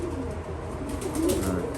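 Pigeons coo softly and continuously inside a pigeon loft, several birds overlapping in low rolling calls at close range, with no voices over them.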